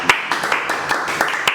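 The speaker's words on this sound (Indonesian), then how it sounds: "Tepuk tangan dong" A few pairs of hands clap in a loose, uneven patter of about half a dozen sharp claps, close and moderately loud, with faint voices underneath.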